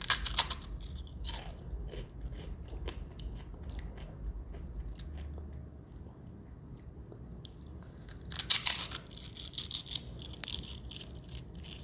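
Dehydrated okra being chewed up close, a steady run of crisp crunching bites with a louder burst of crunches near the end, no talking.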